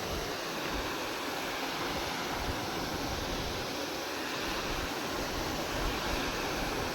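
Water pours over rocks on the far bank of a river near the Khodiyar temple at Galdhara, Dhari, a steady loud broadband rush with no break.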